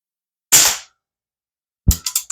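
Crosman 1377 air pistol firing Apolo 9.0 domed pellets: one sharp, close crack, then after a pause a crisp report followed by quick rattling mechanical clicks.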